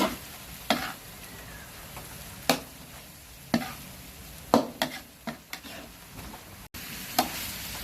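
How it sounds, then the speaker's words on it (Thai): Nile tilapia chili paste is stirred and tossed in a pan over low heat, giving a soft steady sizzle broken by sharp, irregular scrapes and knocks of the utensil against the pan, close by with no talk. "คลุกไปเรื่อยๆนะคะคลุกให้เข้ากันจ้ะ"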